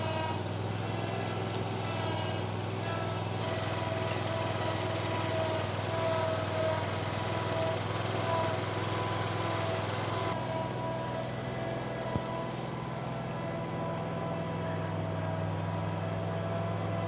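A lawn mower fitted with a deck-mounted string trimmer runs steadily and close up with a constant droning engine note, with a brief change in pitch partway through and no talking.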